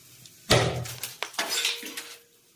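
A clay cooking pot cracks and breaks in a kitchen while oil and mustard seeds are heated for a fish curry, giving one sharp loud crash followed by a few smaller clinking, rattling fragments before it fades out.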